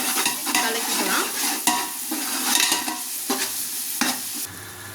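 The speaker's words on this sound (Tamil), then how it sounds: "இஞ்சி பூண்டு பேஸ்ட்டு வதக்கியாச்சு." Ginger garlic paste and onions sautéing in a pan, a steady crackling sizzle punctuated by repeated close scraping strokes of a spatula at an uneven rhythm, with no one speaking.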